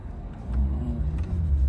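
A car engine pulls hard under throttle for a brief moment, its low rumble rising as it accelerates, fairly quiet and with no talking.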